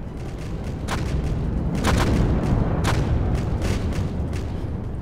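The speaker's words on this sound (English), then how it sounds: "I'm dropping bombs" Bombs exploding in the real-time strategy game Home Wars, a continuous rumbling barrage of booms with several sharper blasts standing out over a dense low roar.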